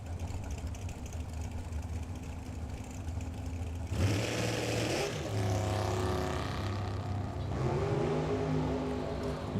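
A pair of drag racing cars with big-block engines, held on the throttle stop as they charge down the strip at Firebird Motorsports Park. A dense, steady engine roar rises and shifts, heard at a distance and unbroken for the full stretch.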